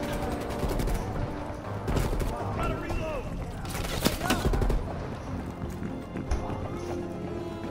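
Rapid gunfire in the video game Call of Duty: Cold War: dense bursts of shots crackle over a busy, loud battle din, with a few sharper nearby blasts standing out.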